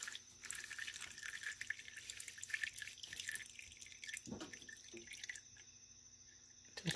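Old oil drips from a Harbor Freight 3 CFM two-stage vacuum pump during an oil change, a faint, irregular run of small drips and trickles against a quiet background, with no speech.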